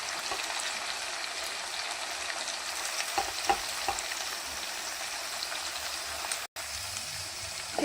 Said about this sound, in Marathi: हा मसाला 5 ते 10 मिनटं बारीक गॅसवरती एकदम मस्त फ्राय